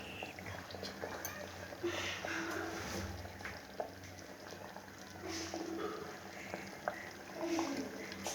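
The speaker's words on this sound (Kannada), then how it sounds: "ನೋಡಿ ಈಗ ಇದು ಕುದೀತಾ ಇದೆ." Palak gravy boiling in a pot, a faint bubbling and soft popping simmer running throughout with quiet background noise.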